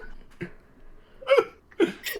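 A person mimics a burp with short, throaty vocal bursts during a tabletop role-playing game session. Three or four separate gulping pops are spaced unevenly, close to the microphone, with breathy pauses between them.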